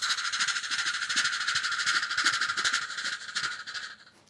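A mimicry artist vocally imitates a steam locomotive, producing a steady rhythmic chugging hiss that runs continuously and fades out at the end.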